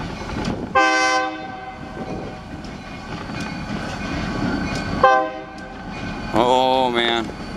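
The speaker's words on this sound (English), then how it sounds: "Got a train." A train rumbles past with clattering wheels, its horn blaring loudly three times in short, separate blasts.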